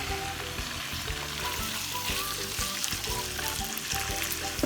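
Cubed chicken frying with vegetables in a pan, a loud continuous sizzle with rhythmic stirring scrapes and clinks, close up and without talking.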